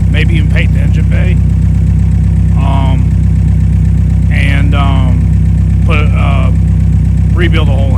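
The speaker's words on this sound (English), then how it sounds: "even though the engine's running fine" A healthy car engine idles with a loud, steady low drone throughout, while a person speaks intermittently over it.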